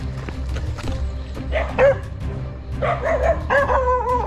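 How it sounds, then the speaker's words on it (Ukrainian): Dogs bark ahead on a tropical running trail, several sharp yaps and bow-wows bunched in short bursts over footsteps and breathing, fairly close. "Да, вон собаки попереду."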